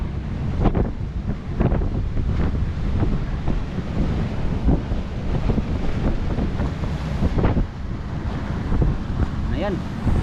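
On a small boat at sea between Mindoro and Navotas, strong wind buffets the microphone in heavy gusts while waves slap and surge against the hull, with a steady roar beneath and a voice faintly mixed in.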